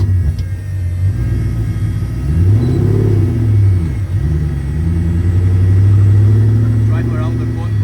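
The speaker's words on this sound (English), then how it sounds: "I'll commit to throttle a little bit, and the car will start drifting." A car engine revs and rumbles steadily while drifting around a cone, pitch rising and falling as throttle is applied, loud and close throughout.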